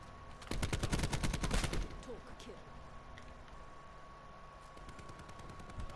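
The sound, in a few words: rapid-fire gun shooting in Call of Duty Black Ops 4 video game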